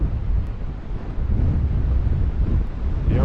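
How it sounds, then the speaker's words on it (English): Atlantic Ocean surf at low tide on a Fire Island beach, heard as a continuous low rumbling wash of distant waves mixed with heavy wind buffeting the microphone. "Let's take a walk down to the surf."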